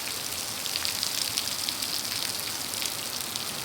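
Sudden heavy rain falls steadily in a village, a dense continuous hiss of drops pattering on surfaces at even loudness throughout, with no voices.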